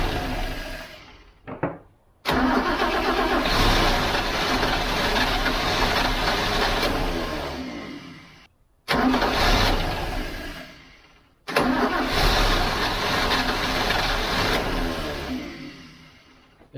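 A car engine cranks briefly and fires, runs roughly for several seconds, then dies and restarts twice, failing to settle into an idle; loud and close, with no talk.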